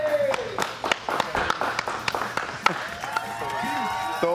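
Scattered hand claps from a small crowd greeting a contestant on a Spanish-language morning TV show's wood-themed competition, uneven and fairly close, with voices and tonal sounds running through them.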